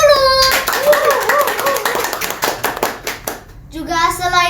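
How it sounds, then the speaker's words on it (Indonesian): Group applause at a children's special-edition show, a crowd of hands clapping steadily and fairly close for several seconds, with voices and speech mixed in over the clapping. "Kita tepuk tangan dulu."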